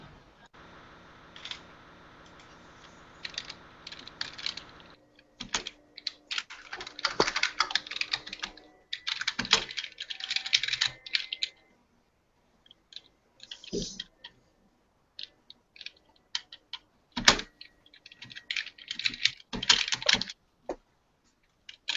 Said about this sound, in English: can you please mute your microphone so we don't hear the typing?